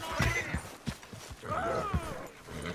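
A horse whinnies twice in Red Dead Redemption 2 while hooves clop unevenly underneath, with brief game voices mixed in.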